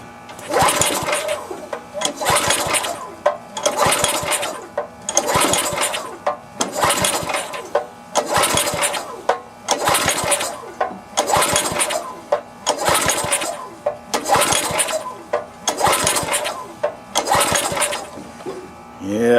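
A tiller's two-stroke engine is cranked over and over with the choke on but never catches: about a dozen loud, evenly spaced pull-start bursts of sputtering engine noise, each separated by a brief pause.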